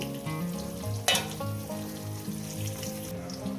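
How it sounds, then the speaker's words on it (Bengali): Large potato pieces frying in oil in a home kitchen, a steady close sizzle throughout with a sharp clatter near the start and faint tonal background music underneath. "আলুগুলোকে সুন্দর করে লাল লাল করে ভেজে নেবেন"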